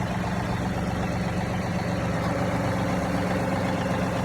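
A John Deere 2038R compact tractor engine runs steadily at close range as the machine drives forward, a continuous mid-to-low diesel drone with no talk over it.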